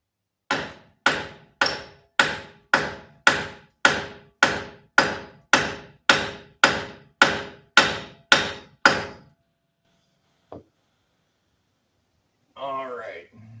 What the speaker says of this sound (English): I'm just going to try to hammer on the side of this to shock this ball